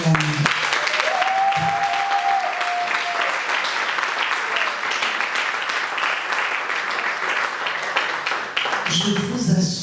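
A conference panel audience breaks into sustained applause that lasts close to ten seconds, dense and even throughout, with voices rising briefly at the end.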